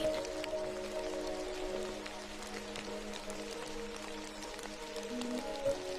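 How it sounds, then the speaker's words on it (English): Steady rain tapping against a window, a continuous soft patter of drops close by with faint occasional ticks, no voices, under a constant low hum. "As the rain continues to tap against the window"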